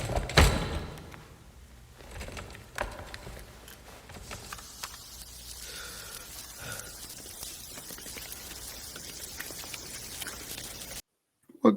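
Rain falls inside a building in a music video, making a steady broadband patter at moderate level that keeps up for most of the stretch before cutting off abruptly into silence near the end.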